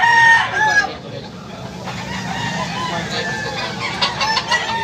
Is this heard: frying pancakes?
no